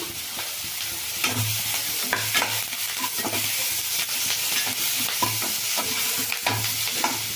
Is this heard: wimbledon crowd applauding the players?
no